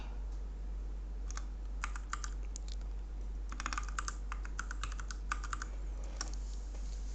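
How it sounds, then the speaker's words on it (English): A password being typed on a computer keyboard: quiet, irregular bursts of key clicks in quick clusters over a steady low hum, with no voices. "we key in the correct IC number"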